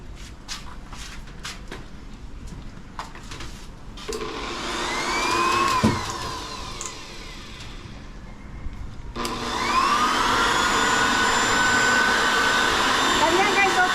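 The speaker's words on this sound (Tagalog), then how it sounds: "Ang blower ni Sky talagang pang blower." A pet blower drying a dog runs as a loud, steady whine with a rising and falling pitch, cutting out briefly and then restarting at full strength, with faint knocks and handling noises in between.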